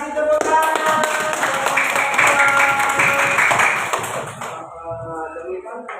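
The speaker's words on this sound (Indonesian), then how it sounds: "Iya, kasih tepuk tangan." A second-grade class of children claps together in a classroom, a dense burst of applause lasting about four seconds and mixed with young voices, before it fades into quieter chatter.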